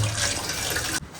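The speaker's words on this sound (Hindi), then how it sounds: "अब पहले इसे मैं वॉश कर लेता हूँ।" Water from a kitchen tap runs steadily over a steel pan being rinsed, a loud, close, continuous splashing rush that stops abruptly near the end.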